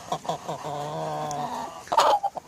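An Indian Game rooster lets out a drawn-out, wavering call between short clucks from nearby chickens, loud and close.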